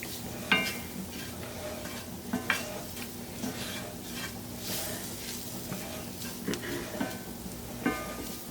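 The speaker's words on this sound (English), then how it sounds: "you don't want it to burn, so stir it" Flour stirred in a hot pan: a soft continuous sizzle with repeated scraping strokes and light clinks of utensil against pan, steady and close.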